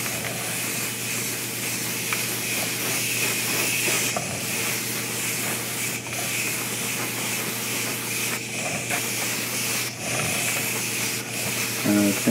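Aerosol clear varnish hisses steadily from a spray can onto a quarter-scale custom Hellboy figure, a continuous close spray with a few brief pauses and breaks in the flow.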